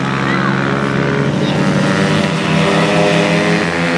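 A loud, steady engine roars at high revs, its droning tone holding throughout with a slight rise and fall, a racing motorcycle with a Daytona motor passing close.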